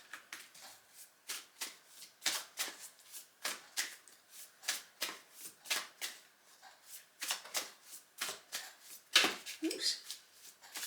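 Tarot cards being shuffled by hand at close range, a rapid run of crisp riffling bursts with a quick slap near the end, no talking over it.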